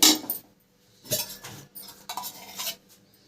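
A spoon mixes rice in an egg biryani pot, making a few separate bursts of scraping and clinking against the metal with short quiet gaps between them.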